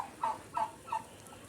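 A domestic turkey gobbles three times in quick succession, each a short warbling burst, fairly close and clear against a quiet outdoor background.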